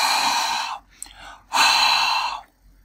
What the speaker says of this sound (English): all you have to do is do a little bit of breathing on this sensor right here.